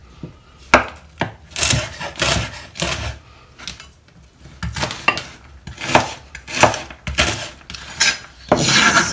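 A knife slicing through cabbage on a board while making vegan sauerkraut, giving a series of irregular close crisp cuts and scraping strokes with short pauses between them, with no talk.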